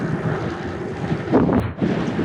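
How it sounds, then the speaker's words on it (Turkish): Strong, gusty wind blowing outdoors by Lake Burdur, buffeting the microphone in a continuous rough roar that swells and briefly drops, with no talking. "hala fön gibi esiyor rüzgar"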